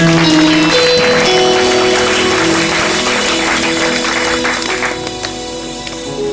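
Church congregation at a fifth-anniversary celebration service applauding and cheering together, a dense, loud wash of clapping and voices over music that thins slightly toward the end.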